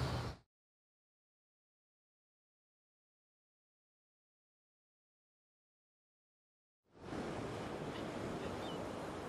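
Water from a hose rushes into a paddling pool as it fills, a steady, loud broadband splashing that starts abruptly after a long silence and continues to the end.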